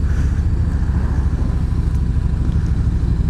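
A 2018 Yamaha Venture motorcycle engine on a test ride, a steady low rumbling drone heard up close throughout, with no talking.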